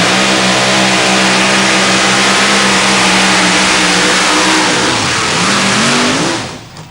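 Minor Brothers Rhino Hemi two-wheel-drive pulling truck at a 2008 truck pull in Brandenburg, Kentucky, its engine screaming loud and steady at high revs, then pitch wavers and sags near the end before cutting off.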